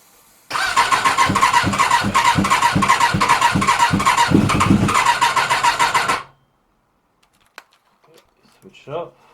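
A Suzuki GSX750F motorbike, stored for three years with fuel-starved carburettors, cranks for about six seconds with a loud, rapid, rhythmic churning starter beat, then stops abruptly, leaving near silence with a faint voice afterward.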